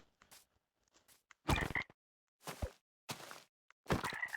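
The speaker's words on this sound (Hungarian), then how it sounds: "Béka!" A frog in a video game croaks in several short, separated bursts, with quiet gaps between them and the later croaks louder and closer.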